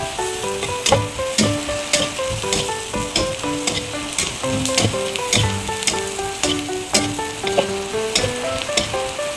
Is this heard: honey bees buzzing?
no